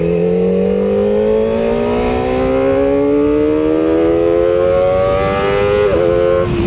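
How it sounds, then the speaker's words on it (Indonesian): Kawasaki ZX25R motorcycle engine revving steadily under throttle, its loud whining pitch climbing slowly and continuously for several seconds, then dipping briefly near the end, with no talk. "Gua puter lagi gasnya."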